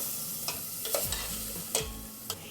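Rice sautéing in a pan with chorizo, turmeric, paprika and salt for Puerto Rican yellow rice, a steady low sizzle broken by several sharp scraping stirs of a spoon against the pot.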